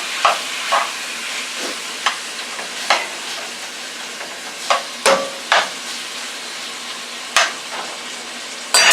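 Pork stir-fry sizzling in a frying pan on the stove, a steady close hiss with repeated sharp scrapes and clinks of a utensil turning the meat.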